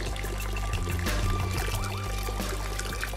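Salt pours into a container of water to make an imitation of urine, giving a soft trickling rush over a steady low hum, close and continuous.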